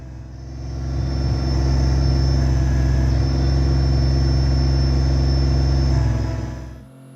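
A Kubota BX25D compact tractor's diesel engine runs steadily at close range, a constant low rumbling drone that swells in over the first second, holds evenly, then cuts off abruptly near the end, with no talking.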